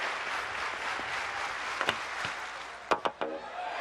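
A stadium crowd at a Diamond League athletics meet in Eugene cheers a pole vault clearance at 5.86 metres, a broad steady roar of many voices with a few sharp claps and knocks standing out near the end.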